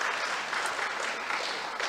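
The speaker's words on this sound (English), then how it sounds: "Can we please give them all a round of applause?" Audience applause at a conference closing ceremony, steady clapping from a crowd filling the whole clip without talk over it.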